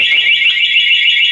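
Anti-theft alarm on a Suzuki Satria FU fuel-injected motorcycle, a loud continuous warbling electronic siren that sounds nonstop and dominates the scene.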